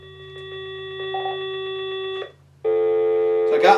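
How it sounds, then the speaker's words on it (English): Ringing phone call placed through a ZTE MF279 4G router, a steady electronic ring tone held for about two seconds, a short gap, then a second ring, loud and close with a faint low hum beneath. "when I make a call, I'm going to call my house so you can hear the phone call."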